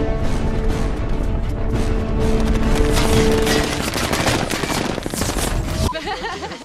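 Dense gunfire in a Marvel superhero movie battle scene, a loud continuous barrage of rapid shots with crashing impacts that fills the whole stretch before tapering slightly at the end.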